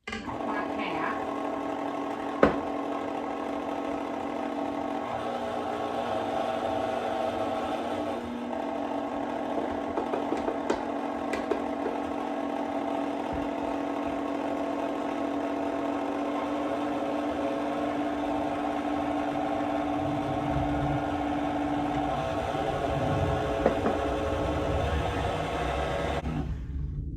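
An electric mixer blends cream and flour for a pound cake batter, a steady motor whir held at moderate speed for nearly half a minute, close by and without interruption.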